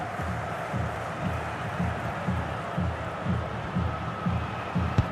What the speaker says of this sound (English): The crowd certainly think so. Just listen to that noise.